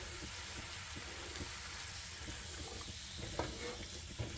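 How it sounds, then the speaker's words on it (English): Cold rice noodles stirred and reheated in a hot pan for Singapore rice noodles, a soft steady sizzle with scraping stirs and a couple of sharper clacks near the end, fairly quiet and without talk. "we'll give the noodles a stir to break them up real good and heat everything up in the pan"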